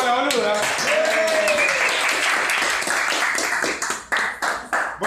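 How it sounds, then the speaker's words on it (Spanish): Applause and cheering at a farewell party for Cecilia Maymó, with voices shouting and whooping over the clapping early on, then thinning into a few separate louder claps toward the end. "¡Un aplauso para la boluda!"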